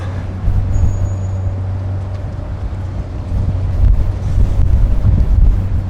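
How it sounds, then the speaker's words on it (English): Buffeting wind rumbles against the microphone, a low steady roar that swells louder toward the end, with no voices. "it is quite windy all of a sudden"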